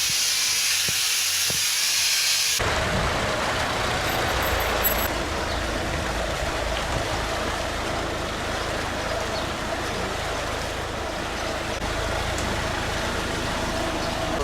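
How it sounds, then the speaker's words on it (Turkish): Steam disinfection of tried-on clothes in a separate cabin at a shopping mall, a loud steady hiss of steam that runs continuously with a brief sharper burst at the start, no talking. "Orada da buharlı dezenfekte yapılıyor."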